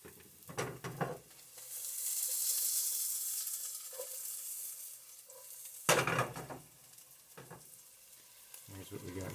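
Garlic sizzles loudly in a hot pan, a steady frying hiss broken by a few short bursts of stirring and clattering pan noise.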